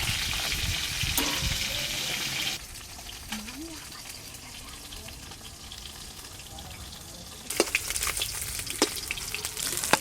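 Fish pieces frying in oil over a wood fire outdoors, a steady close sizzle that drops quieter midway, then returns with sharp crackles and clatter as pieces are handled.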